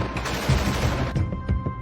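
Gunfire in combat as troops fire on crew leaving an armored vehicle: a dense, loud fusillade of overlapping shots and bursts, close and continuous through the short span.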